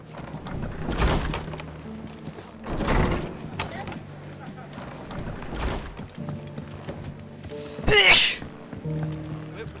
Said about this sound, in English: bless me, I just sneeze